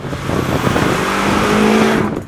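A 2018 BMW M5 sports sedan accelerates hard, its engine rising in pitch as it gains speed, loud and close for a couple of seconds.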